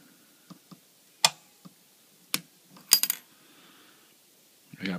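A switch flipped on an electric home brewing control panel with PID controllers, giving a few sharp isolated clicks and small clattering taps in a quiet room.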